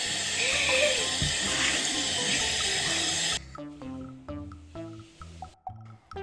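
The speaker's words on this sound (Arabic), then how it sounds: "يلا هلا نفوت نغسل وشنا" Tap water pours hard into a sink for about three seconds, then stops, and light clinks and small household sounds follow.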